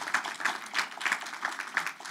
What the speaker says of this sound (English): that's worthy of a little bit of applause